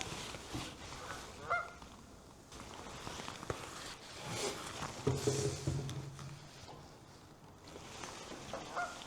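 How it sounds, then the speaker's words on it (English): Canada geese honk on a lake, their calls coming faint and fairly distant in scattered bursts over low background noise. "there's a fair bit around, but it's all Canada geese"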